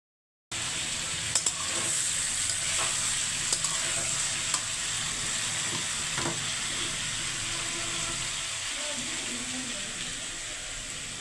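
Potatoes fry in a pan at home in the evening, a continuous hiss of oil with faint stirring clicks now and then, steady and moderately close, no talk.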